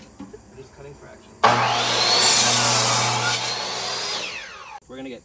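A power saw cuts wood pieces for a homemade mailbox, one loud continuous whining cut of about three seconds starting abruptly and winding down, with low machine hum beneath and faint voices before and after.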